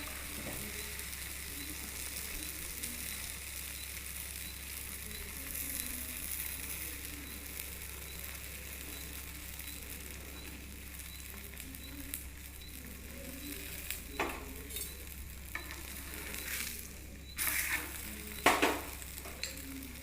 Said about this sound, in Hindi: पहले तवे पर हल्का घी लगाएंगे, पैटी परोठा इस पर डाल लेंगे।